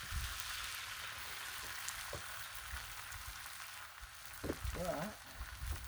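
Eggs fry on a griddle with a steady broadband sizzle, broken by a few soft clicks and a brief voice near the end.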